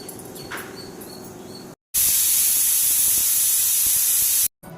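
Pressure cooker on a stove, cooking idli and sambar in one pot, releasing a loud, steady hiss of steam that runs for several seconds between brief silent cuts, after a quieter stretch of kitchen noise.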